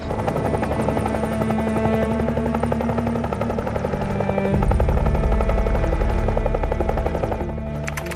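A military helicopter at a Bangladesh Army demonstration event drones loudly and continuously, its steady rotor roar swelling slightly toward the middle as it draws nearer, with no voices over it.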